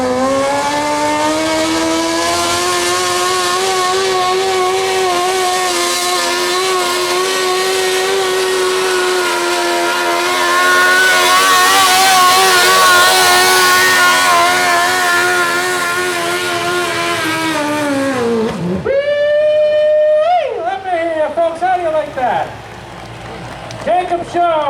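A 1,200-pound modified lawn tractor engine revs hard and loud during a pull, holding a sustained high whine for about eighteen seconds before dropping off and blipping in short bursts; an announcer talks over the tail end.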